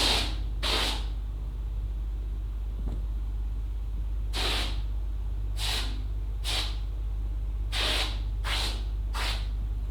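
A pressurized spray foam can sprays in short hissing bursts, seven of them spaced irregularly over a faint steady hum.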